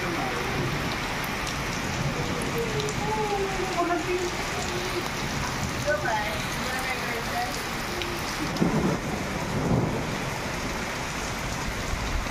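Heavy unseasonal rain pours down steadily in coastal Konkan, a dense, unbroken hiss throughout with a few louder gusts near the end; any thunder is not clearly distinct.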